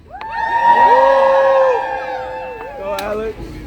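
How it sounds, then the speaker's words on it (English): Outdoor protest crowd outside City Hall cheers and whoops loudly, swelling then fading over a few seconds, with voices rising above the noise. "Give a warm hand of applause for Alex"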